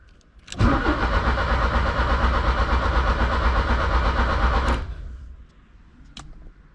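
A 1983 Porsche 944 engine cranks and turns over continuously for about four seconds without starting, a loud, even mechanical churn, then stops, leaving faint clicks and quiet.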